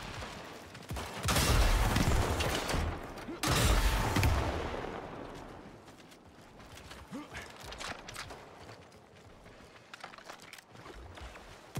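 Two heavy blasts of rocket fire roar out close and loud in the game Eternals, each a couple of seconds long, then quieter crackles and shuffling follow while a player talks.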